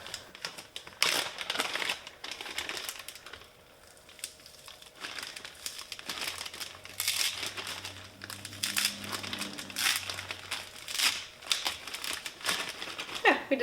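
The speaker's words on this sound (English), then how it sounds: "we're going to try to break this in half again" A compressed sphagnum moss brick being pried and broken in half, close dry crunching and crackling fibrous tearing in irregular bursts, with a faint hum underneath midway.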